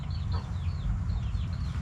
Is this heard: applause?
no